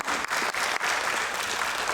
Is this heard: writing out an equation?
no